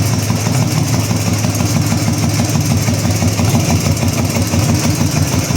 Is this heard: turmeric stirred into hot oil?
no